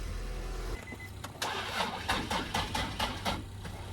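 A Nissan 350Z drift project car cranks with a rough, whirring starter for several seconds and then catches into an uneven, loud engine note close by, with no talking.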